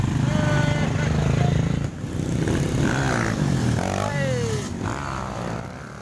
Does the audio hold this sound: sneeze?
no